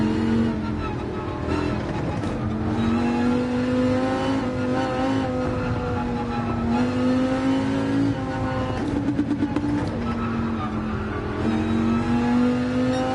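A Dodge race car engine in Gran Turismo 7 drones steadily at high revs, rising and dipping as the car corners and accelerates, loud and continuous with no pauses.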